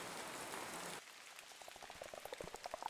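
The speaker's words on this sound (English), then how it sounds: "I use a loop function on the synth, and I also then give it layers because raindrops sound different depending on what it's landing on" Synthesized rain built from a looped synth patch, layered like drops striking different surfaces: a dense steady hiss that thins after a second into scattered pattering, pitched droplets, with no voices.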